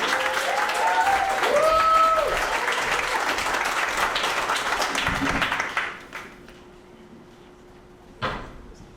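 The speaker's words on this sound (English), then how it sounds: "Keep the applause going for your next comic," Comedy club crowd at Broadway Comedy Club applauds comic Dan Miller, loud sustained clapping with some cheering for about six seconds, then fading to quiet room tone with a brief burst of claps near the end.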